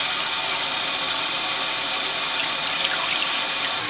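Water rushes steadily into a toilet tank as it refills after a gasket repair, a continuous loud hiss with no pauses and no talking.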